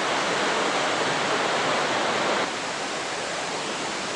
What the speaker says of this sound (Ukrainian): такий от водоспад